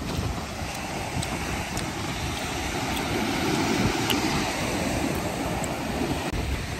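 Ocean surf at Hollywood Beach in Miami, a steady broadband wash of breaking waves that holds constant and loud throughout, with no voices.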